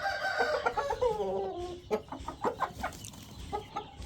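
A young rooster, under 1.5 years old, gives a short hoarse crow followed by several close, choppy clucks in a quiet yard.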